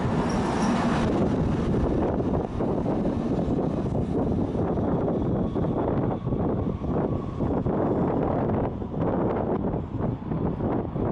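A BART train rolls into a station on a rainy day, giving a continuous loud rumble and rush mixed with wind buffeting the microphone, with no voices heard.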